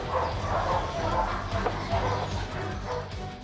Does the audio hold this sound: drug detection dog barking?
yes